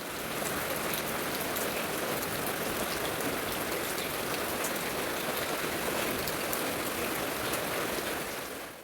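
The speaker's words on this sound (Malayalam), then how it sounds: "പുറത്ത് നല്ല മഴ." Heavy rain pours steadily, a dense, even hiss of drops on surfaces with no other sounds.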